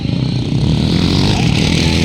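A motocross racing motorcycle revs hard during a first heat at Libungan North Cotabato, giving a loud, continuous, raspy two-stroke snarl up close that holds steady throughout.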